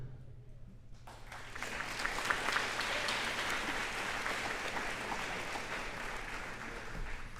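Audience at a Kennedy Junior High eighth grade moving on ceremony applauds a class of the Explorers team, sustained clapping starting after a quiet second and filling the hall steadily to the end.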